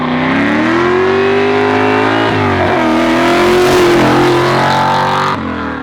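A 700-horsepower big-block V8 in a 1966 Ford Mustang revs hard and loud up close, its deep, harmonic-rich roar rising and dipping in pitch over several seconds with no talking.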